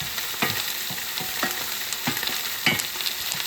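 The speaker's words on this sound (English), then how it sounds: "You want your onions to get a little color on them" Onions frying in a pan, a steady soft sizzle underneath with periodic scrapes of a utensil stirring them every half second or so, close and moderately quiet.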